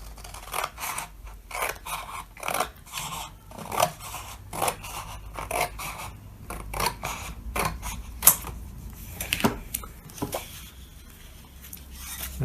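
Scissors trim the edges of a card template in a steady run of crisp snips and paper scrapes, close and fairly quiet, over about twelve seconds with short uneven gaps and no talking.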